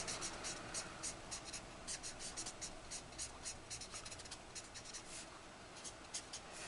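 Alcohol markers scratch and rub across paper in a double-sided, bleed-proof colouring book, with quick, close strokes repeating steadily and faintly.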